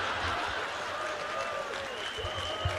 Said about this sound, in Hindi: आप हंस रहे हैं, आप तालियां कर रहे हैं